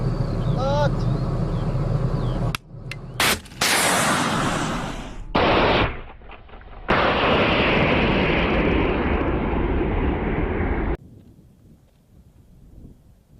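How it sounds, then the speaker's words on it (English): A Javelin anti-tank missile launches with a sharp blast followed by a loud, sustained roaring rush of the rocket motor, broken by abrupt cuts, ending in quieter background noise. "After launch, a Javelin shoots forward horizontally for a second before its rocket motor ignites and it climbs up 150 meters into the air"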